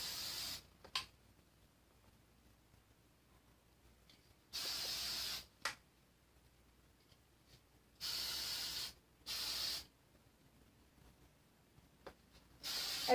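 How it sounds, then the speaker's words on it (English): Hairspray sprays around the ears and hair of a long-haired style in five separate hissing bursts, each about a second long, close and fairly soft, separated by quiet gaps with no talking. "as I'm spraying around my ears"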